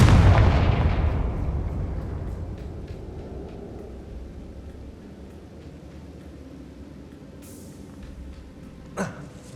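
Loud explosive blast from the Confringo fire spell in Hogwarts Legacy, booming at the start and rumbling away over several seconds, followed near the end by a short sharp crack.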